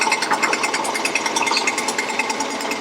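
A boring bar cuts the cylinder of a GM 5.3 engine block, giving a continuous harsh, rapidly pulsing metallic chatter at close range, with no voices.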